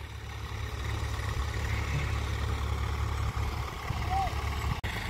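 A Mahindra 742XT tractor pulling a 7 to 8 foot rotavator with both levers down runs with a steady low engine drone while tilling a field, with voices nearby over the constant rumble.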